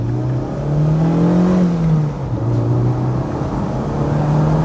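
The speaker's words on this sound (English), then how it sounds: "This thing, anything past 4k RPM, it just lights up, it just wants to go." A Mazda MX-5 with a 1.8 litre four-cylinder engine accelerates hard, its loud, close note climbing in pitch, dipping at a gear change, then rising again.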